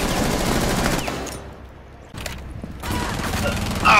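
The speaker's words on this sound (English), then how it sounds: "Oh god, I got shot from behind." Rapid gunfire in the video game Rainbow Six Siege crackles in loud, dense bursts, drops to a brief lull, then resumes close and intense.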